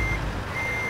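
Truck backing a trailer in American Truck Simulator, a single sustained reversing beep tone over a low rumbling engine, brief and fairly clear, with no talking.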